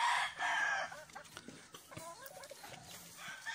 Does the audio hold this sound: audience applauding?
no